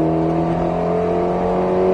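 A loud Alpine A110S engine roars steadily at high revs on a track, a sustained close mechanical drone with no talking.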